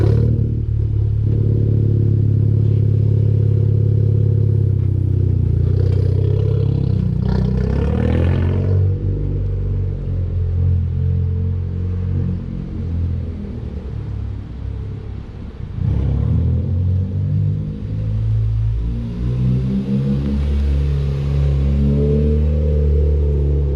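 2018 Honda Civic Type R with a straight three-inch exhaust pipe and no resonators or catalytic converters, a loud, close, droning idle rumble rising into revs several times.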